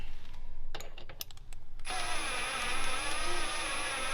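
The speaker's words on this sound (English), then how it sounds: "let me play with power tools" A power tool whines steadily while installing a turn signal kit on a Can-Am Defender HD11, starting up partway through after a few sharp clicks and knocks, then running continuously at a high pitch.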